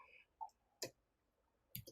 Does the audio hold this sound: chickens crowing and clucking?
no